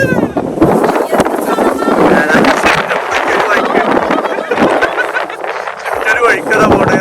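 Strong wind buffets the microphone on a boat ride near Madha, Oman, a steady loud roar and rumble of gusts throughout, with faint voices underneath.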